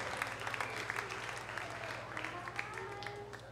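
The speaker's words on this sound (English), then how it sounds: "A round of applause for yourselves." Audience at the Scranton Jazz Festival applauds in a moderately dense, somewhat distant wash of clapping over a steady low electrical hum from the sound system, with faint crowd murmur mixed in.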